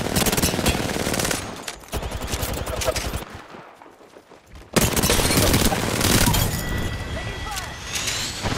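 Gunfire in Apex Legends rattles in rapid automatic bursts, dies away briefly into a quieter lull, then resumes with a loud sudden burst and continued firing, while voices talk over the action.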